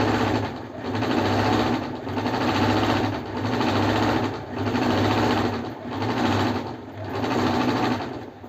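A sewing machine runs steadily while stitching a handkerchief-sized piece of cloth, its loud, close mechanical whirr pulsing in regular bursts with brief slowdowns between runs.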